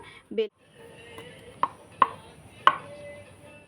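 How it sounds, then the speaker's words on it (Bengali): A wooden rolling pin working flatbread dough, producing a few sharp knocks and taps against the board spaced irregularly, fairly close and distinct over a quiet room hum. "এরপর আমি এগুলোকে রুটির মতো করে বেলে নেব রুটিগুলো বেলার জন্য এখানে আমি একটা বেলেন চাকি নিয়ে রেখেছি"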